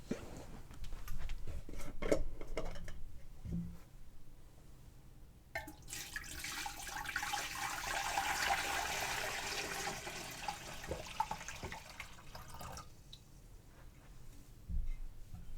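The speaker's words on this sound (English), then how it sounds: "we're going to fill the pot with water, being sure to cover the lids by at least an inch of water" Tap water runs and splashes into the metal pot of a Nesco smart canner, a hissing pour that swells and shifts over several seconds, with clunks and handling noise around it and no speech.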